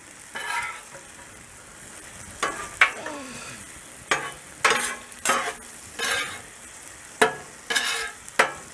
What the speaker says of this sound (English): You give these onions a stir again, man?